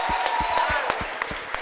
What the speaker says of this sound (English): we want to clap it up for the 40 under 40